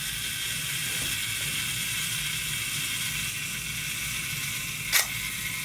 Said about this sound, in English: you use this little switch to set the self-timer going